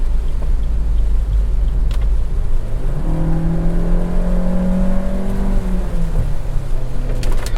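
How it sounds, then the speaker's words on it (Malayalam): A Maruti Suzuki Ertiga with a 6-speed automatic accelerates hard to overtake, heard from inside the cabin. A low engine drone climbs steadily in pitch and then eases off as the gear shifts, over constant road and rain noise. "അപ്പോൾ ആ ഒരു സൗണ്ടുകൾ കേട്ടാണ്, എഞ്ചിൻ നോട്ട് കേട്ടാണ്."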